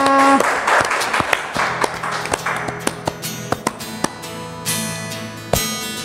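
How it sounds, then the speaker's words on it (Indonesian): Applause from a studio audience at a church anniversary thanksgiving service, with scattered individual claps standing out over a busy mix of music and background voices. "kita boleh tepuk tangan yang di studio"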